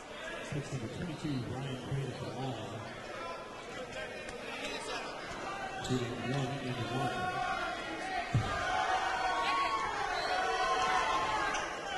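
Home crowd at a college basketball game reacts to a foul call with a rising swell of boos and crowd noise in a gym, building louder toward the end beneath a commentator's voice.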